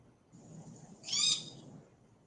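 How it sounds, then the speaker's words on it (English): An exotic pet bird gives a single short, high whistling call that swells briefly and fades, fairly faint against a quiet room background during an online meeting. "Somebody has an exotic bird."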